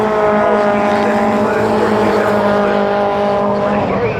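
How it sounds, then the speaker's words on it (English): Racing cars scream past loudly at the Brands Hatch circuit, their engine notes rising and falling as they sweep by in one sustained close pass. "There goes the fourth place car, Richard Kemp"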